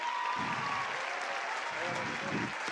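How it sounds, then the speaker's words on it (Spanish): Audience applause at a talk about a charitable foundation, a steady wash of clapping with faint voices mixed in. "Fuerte el aplauso."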